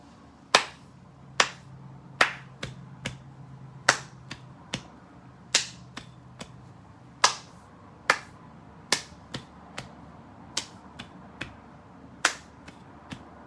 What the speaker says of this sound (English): just practicing that clapping pattern